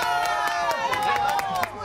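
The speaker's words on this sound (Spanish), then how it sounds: "Un aplauso para Mariano Sandoval" Studio audience applause on a Spanish-language TV game show, with a few sharp, separate claps over a tonal background and some voices, brief and fairly loud.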